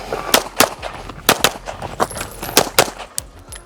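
Rapid pistol shots at training targets with a Gibson Custom handgun, a dozen or so sharp, loud reports in quick uneven pairs and strings, close by.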